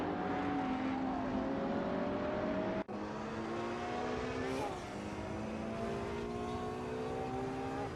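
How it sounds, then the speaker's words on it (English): Retro racing cars lapping a track in a racing simulator game, a dense, continuous engine whine with rising and shifting gear tones, loud and steady throughout, with a brief dropout near the three-second mark. "watch our driven racing cars tear up the track in this amazing simulator"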